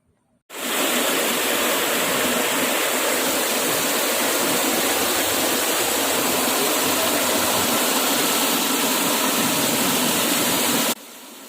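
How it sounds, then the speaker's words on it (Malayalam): Water suddenly begins flowing in a newly built, freshly painted fountain. A loud, steady rushing and splashing roar starts abruptly and holds evenly for about ten seconds before cutting off, with no voices. "ഇനി നമുക്ക് വെള്ളം സ്റ്റാർട്ട് ചെയ്യാം"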